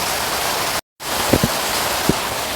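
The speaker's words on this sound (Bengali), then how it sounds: "এত বৃষ্টি হচ্ছে ছাতাও এখানে কাজ করবে না" Heavy rain pours down steadily as a dense, loud hiss that fills the scene, broken by a brief dropout and a few soft knocks.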